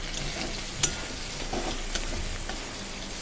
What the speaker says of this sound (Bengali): আরেকটা কড়াইতে আমি কয়েক টুকরো আলু ভেজে নিচ্ছি